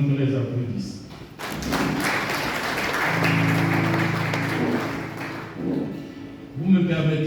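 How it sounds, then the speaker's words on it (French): An audience at a formal academic address bursts into applause, a loud, broad wash of clapping lasting several seconds with some heavy thumps mixed in, while a voice speaks before and after. "je demande qu'on les applaudisse"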